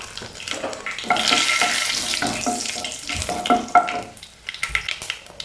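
Mustard seeds and dried red chillies fry in hot coconut oil, a close, continuous sizzle with crackling pops and a few stirring scrapes, fading toward the end.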